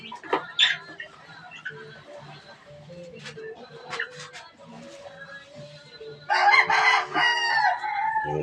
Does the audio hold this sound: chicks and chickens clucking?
yes